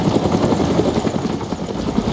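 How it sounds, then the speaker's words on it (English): In a video game, a helicopter engine runs loud and close, its rotor chopping in a fast steady pulse the whole time. "I didn't turn the chopper off though."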